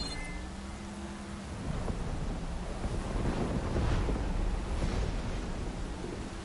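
A storm in the video game Horizon Forbidden West, with a deep rumble of thunder swelling over steady wind and rushing noise that peaks midway, fairly loud and without speech.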